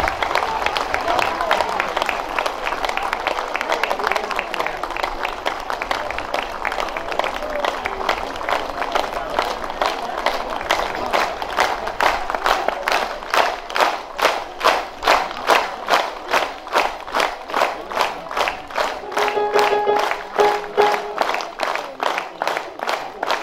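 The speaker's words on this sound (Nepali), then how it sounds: "म सम्पूर्णलाई यसो उठेर ताली बजाइदिनु हुन पनि हार्दिक अनुरोध" Audience standing and applauding at a Buddhist monastery recitation ceremony, dense sustained clapping that grows into rhythmic unison claps, with a voice speaking over it.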